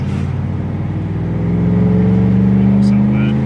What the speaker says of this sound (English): I gotta definitely do something about my exhaust.